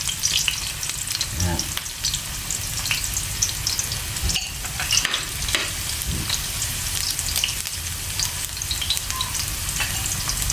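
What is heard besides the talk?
ginger sautéing in pan for eel adobo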